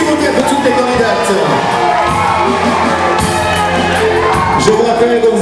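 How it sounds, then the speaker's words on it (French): A large audience at a carnival queen election in southern Martinique cheers, whoops and shouts continuously, a loud, dense crowd roar for the candidates with voices mixed in. "Je veux entendre vos applaudissements, s'il vous plaît, pour les 6 candidates"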